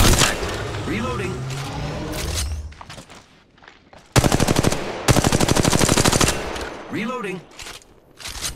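Automatic gunfire in the mobile game Apex Legends Mobile: two loud, rapid bursts of machine-gun fire, each about a second long, between quieter game sounds and radio-style voice callouts.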